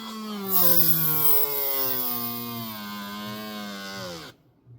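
A drill bit grinds through cured UV resin layered with paper, a loud sustained whirring whine with rising harmonics that runs steadily for about four seconds, then cuts off abruptly.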